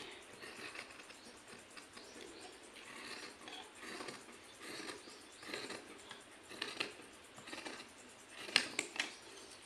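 Scissors cutting fabric for a ladies' kameez, soft, close snips and rustles repeating irregularly at low volume, with a few sharper clicks near the end and no talking.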